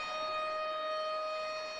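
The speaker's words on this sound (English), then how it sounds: "I hear the siren." A siren sounds in a volleyball arena, the Sawyer Center, during a match against Henderson State: a steady, sustained tone with strong harmonics holding loud and even throughout, with no talk over it.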